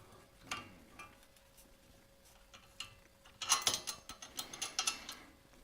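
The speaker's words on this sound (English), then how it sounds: "Put the spanner on and rotate." Spanner turning a saw blade in a workshop, quiet ratcheting and mechanical clicks, faint at first, then a denser run of sharp metallic ticks in the second half, no speech.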